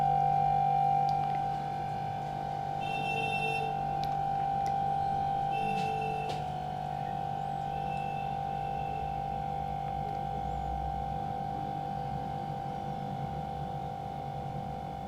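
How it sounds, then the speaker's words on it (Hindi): An OCA laminating machine's vacuum pump runs in a mobile repair workshop, giving a steady, even electrical hum with a constant tone and a few faint ticks, moderately quiet and unbroken throughout. "वैक्यूम बटन को ऑन कर दिया है, मशीन को ऑन कर देता हूं।"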